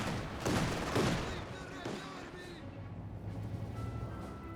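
Gunfire and explosions from the World War II strategy game Company of Heroes 2 crackle in bursts, dense early then thinning, with a distant rumble and a voice talking over the battle.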